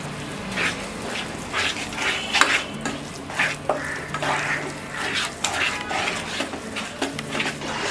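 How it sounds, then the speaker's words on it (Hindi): Coconut ladoo mixture of coconut, powdered sugar and milk cooking over a low flame, stirred continuously with rhythmic scraping strokes against the pan and a soft bubbling sizzle underneath. "हमने इस मिक्सचर को 2-3 मिनट तक लो फ्लेम में कुक कर लिया है"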